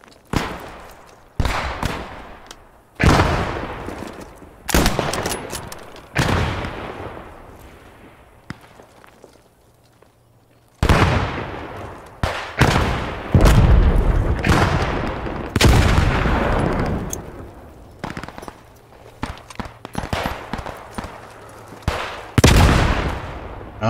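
Loud gunfire and explosions in the WWII shooter game Post Scriptum, heard as sharp bursts and rifle cracks in clusters along with a heavy grenade blast. A quieter lull falls midway before dense firing resumes.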